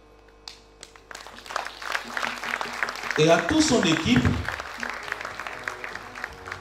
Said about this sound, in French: vous demander d'applaudir très très fort à Madame la ministre Lagou